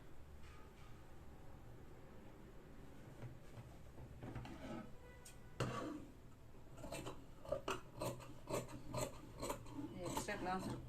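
Scissors snip through chudidar dress fabric in short, crisp cuts that start sparse and grow more frequent and rhythmic toward the end, close and fairly quiet, with a faint rustle of cloth between strokes.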